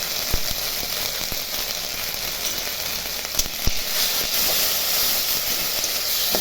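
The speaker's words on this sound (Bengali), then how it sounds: "এখন এটা কড়াই একটু ভেজে নেব।" Pea paste fries with salt in oil in a wok, giving a loud, constant sizzling hiss up close, broken by a few sharp clicks and knocks.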